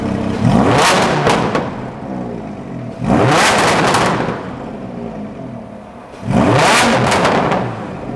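The engine and exhaust of an ECU-tuned Lamborghini LP610 rev three times in loud, close bursts of a few seconds each. Each roar rises, then eases back toward idle before the next.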